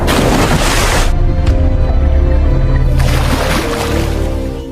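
A grenade sets off an oil drum in an action film, a loud booming blast with a sustained roaring rumble that briefly drops and then surges again before slowly fading.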